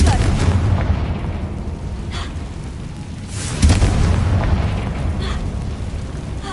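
Heavy, booming blasts from the Confringo curse in Hogwarts Legacy roll over continuous rumbling, with a few sharper bursts rising out of the loud, dense din.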